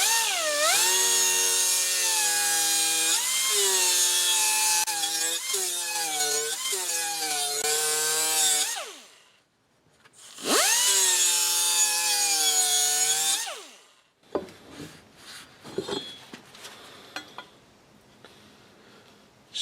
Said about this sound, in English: I want to just touch the back side of the blade as well